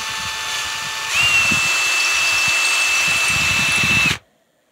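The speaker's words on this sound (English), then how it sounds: "all these holes need to be chased" Power drill chasing pre-drilled holes in a freshly painted guitar body, a steady high whine that rises in pitch after a second and holds for about three seconds before cutting off abruptly.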